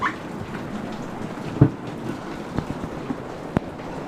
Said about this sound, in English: this freaking rain ain't helping a damn bit